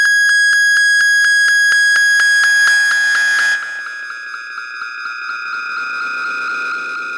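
A feedback loop from a Mackie 402-VLZ3 mixer, heard dry with the Boss DD-6 delay and MT-2 distortion switched off. It is a loud, steady, piercing electronic tone that pulses in rapid rhythmic ticks before settling into a smoother sustained ring.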